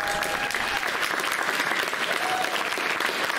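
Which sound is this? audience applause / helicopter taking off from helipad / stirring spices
audience applause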